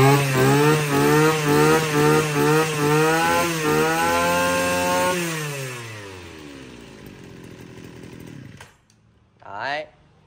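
A small, brand-new chainsaw runs close and loud in a test, revving in several rhythmic surges before its engine winds down and cuts out, followed by one brief final rev.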